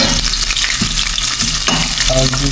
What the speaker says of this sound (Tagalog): gisa na po muna natin yung ating sibuyas at luya